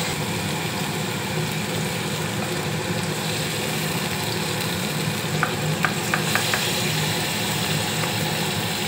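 Tomatoes are added to salted onions frying in a pan for chana masala, producing a steady close sizzle with stirring and a few sharp spatula clicks on the pan.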